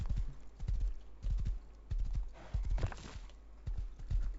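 Steady clip-clop of horse hooves in the video game Rust, in a quick rhythmic gait, several close bursts of footfalls with brief pauses between them.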